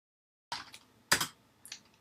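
Three crisp, close keystrokes on a computer keyboard sound in a quiet room as a terminal command is typed, each a short dry click spaced about half a second apart.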